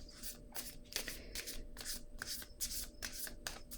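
Playing cards riffle and slide against each other in a rapid run of soft papery bursts, close and quiet, with no voices.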